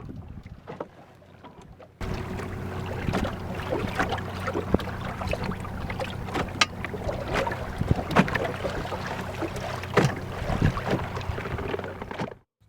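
A slow wooden sailing boat beats upwind on a light southwesterly breeze, with hull and water sloshing, creaks and knocks over a steady rush of wind on the microphone, no voices.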